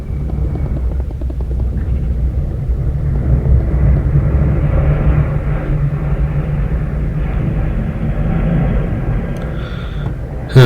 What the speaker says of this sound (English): Sound like an airplane was coming through here.